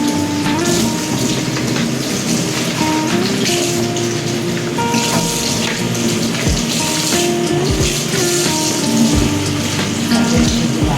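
Running water from a tap washing raw chicken pieces, a steady close splashing flow with occasional thumps and knocks of handling throughout.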